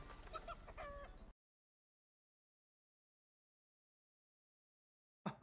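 Chickens cluck and a rooster crows in a short, loud burst lasting about a second, followed by total silence and then a brief noisy burst right at the end.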